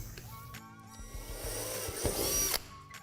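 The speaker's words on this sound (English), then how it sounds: "We're also going to drill out one of the dimples on the back side of the wall" A power drill bores through a molded plastic dimple on a playhouse wall panel, giving a brief whirring run that rises to a louder grinding burst before stopping, with short knocks around it.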